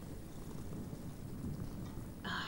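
Rain falls steadily with low thunder rumbling close by throughout, and a brief brighter burst of rain noise comes near the end.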